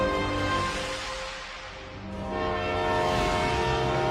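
A train horn on one of the new trains to Kevadia, India, blares in a long, loud, sustained harmonic blast over continuous rail rumble, swelling again toward the end.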